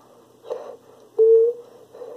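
A single brief mouth whistle, shaped to imitate a water drop, sounds as one short, steady, clear note. Soft breathy mouth noises come just before and after it.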